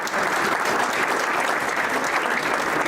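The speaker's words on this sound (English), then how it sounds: "Let's give ourselves a round of applause." An audience at an academic talk on moral development claps together in a sustained, dense round of applause, steady and loud for the whole stretch with no voices over it.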